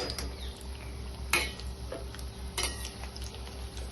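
Wheat flour slices frying in a pan over low to medium flame, a soft steady sizzle with a couple of sharp metallic clinks of utensils against the pan.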